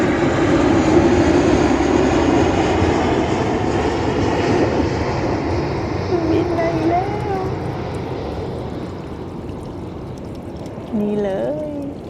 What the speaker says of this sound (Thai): เครื่องบินมาอีกแล้ว